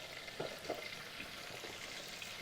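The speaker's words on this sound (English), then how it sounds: "Just a slow sizzle." A soft, slow sizzle of food frying in a pan, steady and fairly quiet, with a couple of faint stirring clicks.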